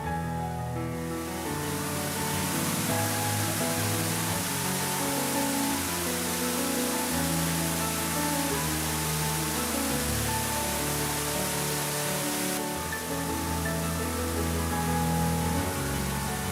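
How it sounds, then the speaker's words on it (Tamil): Periyar falls in the Kalvarayan Hills pours down in a continuous broad, hissing rush of water, steady and enveloping, with a low tonal layer resembling background music underneath. "பறவைகளின் சத்தமும் அருவியின் ஓசையும் தவிர வேறு எந்த சத்தமும் இல்லாமல் அமைதியாக"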